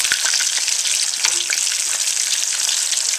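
Squirrel pieces coated in a peppery breading fry in a pan of hot oil, giving a steady, close, dense sizzle and crackle that runs unbroken from start to finish with no talk over it.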